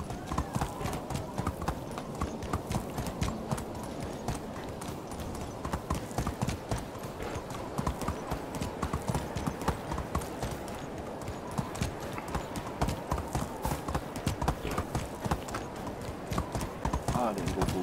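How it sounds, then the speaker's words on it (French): Horse hooves clip-clop steadily and continuously while riding in the medieval survival game Medieval Dynasty, a dense, even rhythm of hoofbeats with occasional talk over it. "On va faire la balade dans le cheval, ça ira plus vite."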